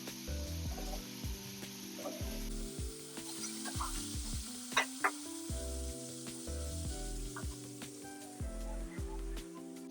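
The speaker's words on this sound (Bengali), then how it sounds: "এবার এই বেগুনগুলোকে একটু" Eggplant pieces fry in oil in a kadai, giving a steady near sizzle with a few sharper crackles and pops, alone without any voices.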